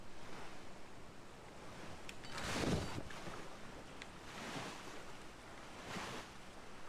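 A three-sailed ship moves over the open sea in the video game King of Seas, with a constant wash of wind and water rising into a few soft swells of surf.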